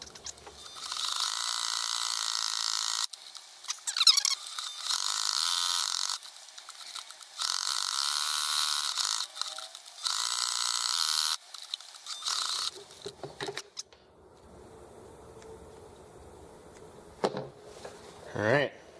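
A sewing machine top-stitches along the edge of a placemat, running in steady loud bursts separated by short pauses, then stopping, with faint handling noises afterward.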